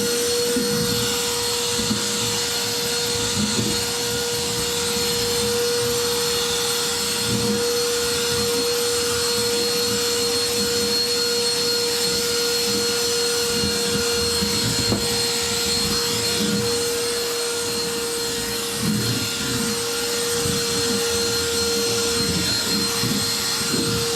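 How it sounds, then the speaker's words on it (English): A handheld vacuum cleaning a workbench runs without a break, a loud, close, steady whine with a fixed pitch, its airflow roughening slightly as the nozzle moves over the surface. "So I'm going to be doing a little bit of cleaning with a hand vac."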